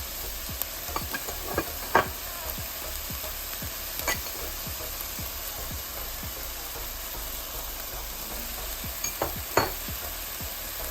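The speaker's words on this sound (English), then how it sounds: "So we're just going to stir that garlic and ginger in there." Minced garlic and ginger stirred in a hot frying pan for curried chickpeas, a steady close sizzle broken by repeated scraping clicks of a utensil against the pan.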